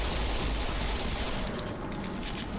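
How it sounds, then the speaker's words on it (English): Dual-wielding pistols firing in Serious Sam 4, a dense nonstop barrage of rapid shots amid loud game noise, close and heavy throughout, with no talk. "The dual-wielding pistols."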